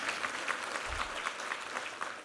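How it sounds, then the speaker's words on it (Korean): Congregation at a Sunday worship service gives encouraging applause for the online choir members and conductors, a quiet, even stretch of many hands clapping together, heard from a distance. "수고하신 우리 온라인에 함께 하신 성가대 멤버들과 우리 지휘자님들께 한번 격려 박수 한번 부탁합니다."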